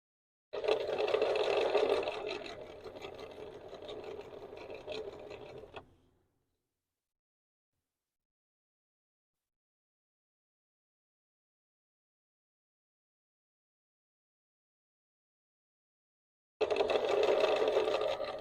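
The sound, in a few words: sewing machine stitching quilt binding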